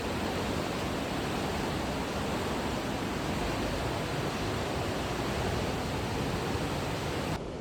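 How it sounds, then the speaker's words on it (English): Fast water rushes through a narrow rocky gorge, a loud, unbroken roar that holds steady for several seconds before cutting off abruptly near the end. "Fast water."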